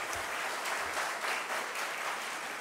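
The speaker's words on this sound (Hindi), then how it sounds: "इनके लिए तालियां जरूर खूब लगाएंगे" An audience at a formal gathering on youth affairs, shown in a Pakistani evening news bulletin, applauds in a steady, fairly quiet wash of many hands clapping, sustained throughout with no speech on top.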